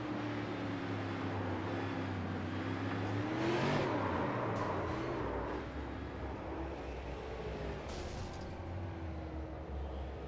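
Onboard short-track race car engine running steadily loud and close throughout, with a sustained drone that rises in pitch briefly mid-run; no voices.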